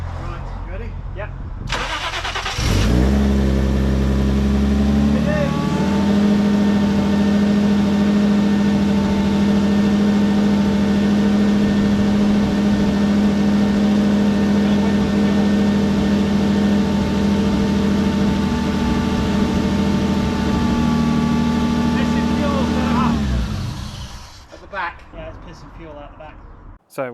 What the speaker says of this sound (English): It was making supercharger noises, which is great.